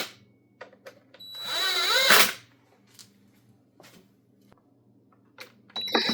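A power driver tightens screws on the side muffler cover of a Husqvarna string trimmer, one loud whirring burst of about a second, then quiet clicks and handling noises before a short second burst near the end.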